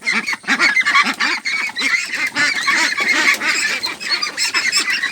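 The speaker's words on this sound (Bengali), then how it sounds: "হাঁসগুলো অনেক চালাক কিন্তু হাঁসগুলো ধরা যাচ্ছে না ওরা দৌড়ে দৌড়ি করছে" Pekin ducks on a farm quacking and honking loudly in a dense, continuous flock chorus, many overlapping calls close by as the birds run around.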